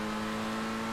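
Race car engine in GTA 5 Online droning at steady high revs, a constant close whirring tone with no pause and no talk.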